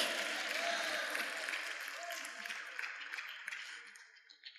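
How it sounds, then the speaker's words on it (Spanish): Applause from a church congregation during a Spanish-language sermon, a broad steady wash of clapping that gradually thins and fades toward the end, with faint voices mixed in. "Fuerte aplauso."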